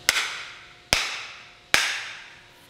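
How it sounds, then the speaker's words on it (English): An axe handle's end is struck to drive it up into a free-hanging axe head: three sharp, close wooden knocks, evenly spaced about a second apart, each ringing briefly before fading, with no talking. "tap the end of the axe handle with the head free hanging, and that'll actually drive the handle through"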